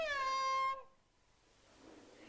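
A single clear, tonal meow is voiced by a person imitating a cat during a children's rhyme about an old lady swallowing a cat, short and prominent, followed by quiet room background.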